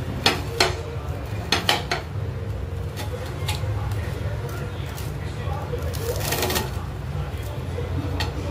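A knife cuts through a crunchy chutney sandwich made without butter or cheese, with a few sharp crackling crunches near the start and then softer scraping and clatter as someone talks.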